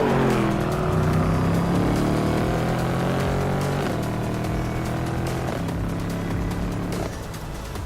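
A BMW sports coupe with xDrive drives under power, its engine droning loudly and steadily up close, the tone rising and falling with shifting revs, with no talk.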